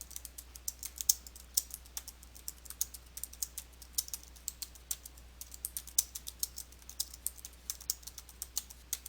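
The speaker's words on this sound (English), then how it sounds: "type the text using your keyboard" Rapid keystrokes on a computer keyboard, irregular light clicks in quick bursts with short pauses, fairly quiet and close, with no talking.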